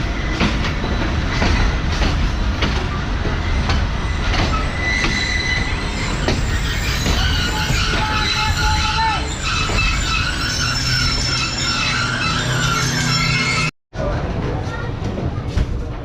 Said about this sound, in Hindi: ट्रेन हमारी डिपार्ट कर रही है सादकाबाद रेलवे स्टेशन से